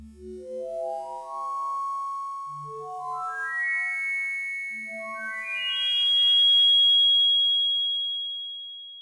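An Arturia Synclavier V synth plays a harmonically rich sound effect, a run of bright stepped tones climbing upward in pitch over several seconds, clean and alone.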